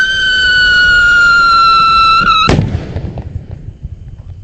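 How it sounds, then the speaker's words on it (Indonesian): A jumbo firecracker set off in a hole in the ground first gives a steady, high whistling shriek for about two and a half seconds, then cuts off into one loud, sharp blast that fades into rumbling debris. "Mercon rambu sudah menyala, bosku."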